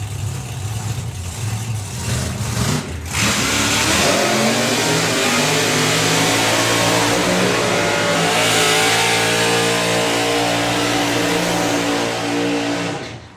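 A drag racing car launches hard down the strip, its engine roaring loud and close after a brief lull, rising in pitch as it accelerates and holding a strong, sustained bellow before cutting off.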